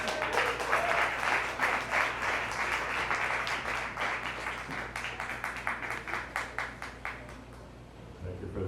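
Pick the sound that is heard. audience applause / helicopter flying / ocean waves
audience applause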